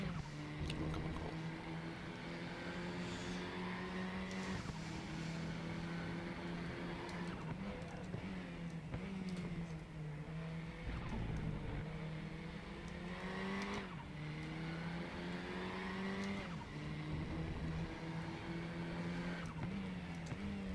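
KTM race car in the RaceRoom racing game at Lausitz, its engine droning steadily with rising and falling pitch through gear changes and corners, loud and continuous with occasional tyre noise and no talk.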